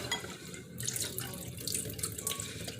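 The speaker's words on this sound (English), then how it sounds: "Let's give it that last little rinse." Sea moss rinsed under a running kitchen tap, a steady close splashing stream of water into the sink with shifting spatter as the moss is moved about, no talking.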